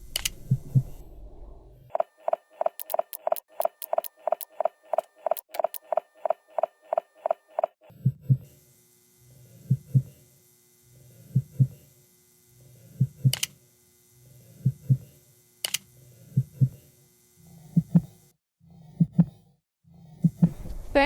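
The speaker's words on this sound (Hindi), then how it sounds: "दिल की धड़कन बहुत तेज़ हो गई है यार इस बंदे की" A fast heartbeat thumps in the horror game Survive The Night, set in a haunted hospital, first as quick regular beats over a clicking tone, then slower heavy paired thuds, loud and close with no talking.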